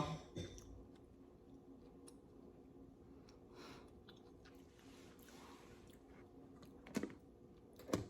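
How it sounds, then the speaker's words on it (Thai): Close, quiet chewing of tough boiled clams, with soft squishy mastication and faint wet clicks continuing steadily over a low background hum, and a couple of sharper bites near the end. "หอยค่อนข้างจะเหนียวก็เลยเคี้ยวนานนะคะ"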